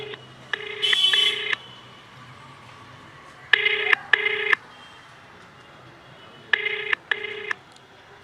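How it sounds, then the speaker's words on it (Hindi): A telephone call rings out as an outgoing ringback tone: paired electronic beeps repeat in clear bursts separated by quiet gaps over a low background hum. "रिंग जा रहा है, देखते हैं फ़ोन उठाते हैं कि नहीं उठाते हैं।"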